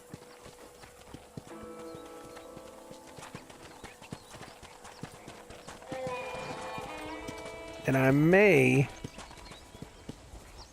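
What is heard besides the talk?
horse hooves clip-clopping in video game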